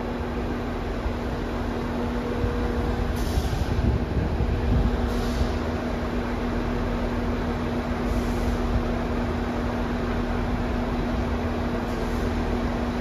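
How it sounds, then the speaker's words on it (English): A steady, loud rumble and hum of a Northern passenger train idling at Sheffield station, with a constant low tone and occasional faint clanks. "11:43 Northern train service to Leeds."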